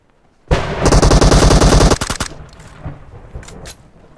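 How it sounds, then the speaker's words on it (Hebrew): A burst of rapid automatic gunfire in the mobile battle royale game PUBG Mobile, loud and close for about a second and a half, then trailing off into scattered echoing shots. "אני גם יריתי עליו"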